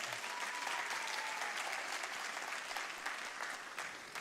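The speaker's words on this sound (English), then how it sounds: "Let's please give all of our amazing candidates a round of applause." Warm applause from the audience at a youth congressional debate as the candidates are introduced, a continuous crackling patter of many hands at moderate distance that eases off slightly toward the end.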